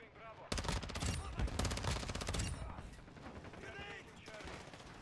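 VEL 46 submachine gun fire in a shooter video game, rapid loud automatic bursts running for about two seconds, then scattered shots and game effects, with a player talking over it.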